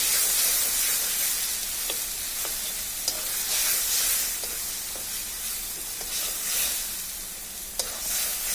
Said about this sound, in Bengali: একটু ভালোভাবে এখন নেড়ে চেড়ে নিচ্ছি যেন নিচে লেগে না যায়।